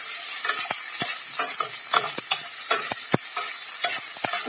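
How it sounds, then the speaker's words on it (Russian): Sizzling oil crackles steadily while a utensil scrapes and stirs through half-ring onion slices frying in a pan, with sharp irregular clicks throughout and no talking. "буквально одну минутку обжариваем"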